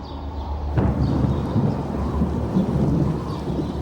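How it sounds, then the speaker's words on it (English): Thunder and rain from the approaching midsummer rains of ancient Egypt: a sudden crack opens into a long, low rolling rumble over a steady hiss of falling rain. "The midsummer rains were approaching."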